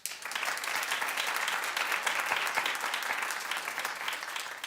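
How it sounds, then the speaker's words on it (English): Studio audience at a daytime talk show bursts into sustained, even applause, a dense wash of many hands clapping steadily for several seconds without any talk over it. "clap if you love Celebrity Apprentice"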